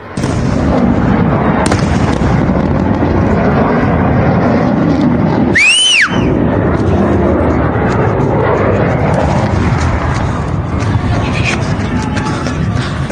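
Fighter jets roaring overhead while firing shells in an attack, a loud continuous engine rumble with a single jet sweeping past mid-way, booming blasts mixed in, and a voice talking over it.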